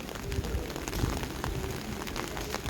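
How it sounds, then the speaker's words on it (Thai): Rain falls steadily in a town street, a dense continuous patter of drops hitting surfaces nearby with scattered louder splats. "ฝนตกฝนตกแล้ว"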